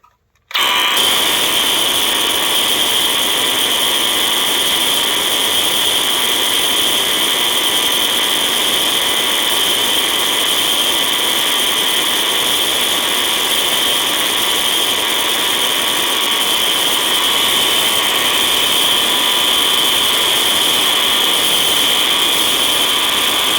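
A building fire alarm sounds continuously at a New Year's event, a loud, steady electronic tone held without a break from start to finish.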